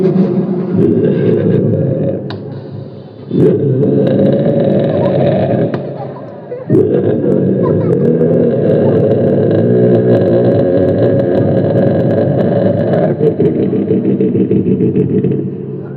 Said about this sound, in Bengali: স্কুটারের শব্দ কেমন লক্ষ্য করি শুনি